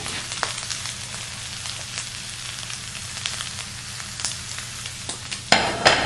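Egg and tuna fish fry on a stovetop in a steady, close sizzle, with a few soft stirring clicks and a louder scrape near the end.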